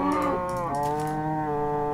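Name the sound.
cows mooing in Minecraft video game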